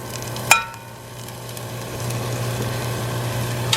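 Green onions and rosemary frying in a pan for a maple rosemary glazed pork cutlet dish, a steady close sizzle after a brief clatter as they go in, with no talk.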